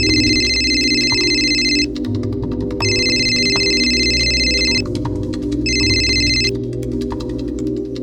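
Telephone ringtone sounding in three electronic ringing bursts with pauses between them, loud and close over a low background drone.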